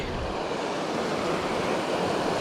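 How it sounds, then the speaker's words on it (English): A cold mountain creek in the Sawtooth Mountains rushes along beside a trail, giving a steady, dense wash of flowing water that stays close and even throughout, with no voices. "We are walking along the creek."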